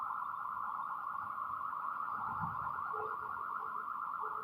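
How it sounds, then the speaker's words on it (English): Building alarm sounding continuously indoors, a steady loud electronic tone holding for several seconds with a faint low rumble beneath, no talking. "that's the alarm of this building."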